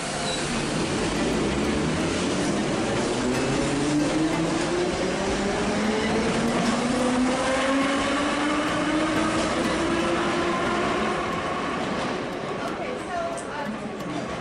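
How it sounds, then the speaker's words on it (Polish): A metro train pulls away from a station in Tbilisi, Georgia, its motor whine rising steadily in pitch over the rumble of wheels, with faint crowd chatter on the platform. "Pociąg rusza ze stacji metra."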